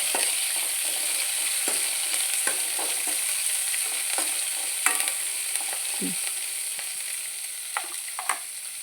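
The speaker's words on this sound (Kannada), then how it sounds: "ಸ್ವಲ್ಪ ನೀರುಳ್ಳಿ, 1 ನೀರುಳ್ಳಿ ಹಾಕಿದ್ದೀನಿ ಸಣ್ಣದಾಗಿ. 5 ಮಿನಿಟ್ಸ್ ಒಳ್ಳೆ ಫ್ರೈ ಆಗಲಿ." One chopped onion frying in a pan for cucumber palya, a steady bright sizzle with scattered scrapes and clicks of stirring, close and alone with no talk.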